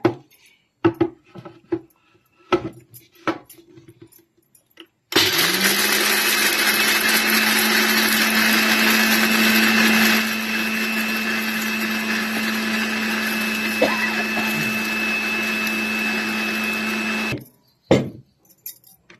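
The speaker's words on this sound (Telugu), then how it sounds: "చల్లగా అయినాయి పల్లీలు, మిక్సీ పట్టుకుంటుందా." A mixer grinder grinding cooled roasted peanuts for tomato chutney, a loud steady whirring motor that runs for about twelve seconds, easing slightly midway, with a few clicks and knocks before and after.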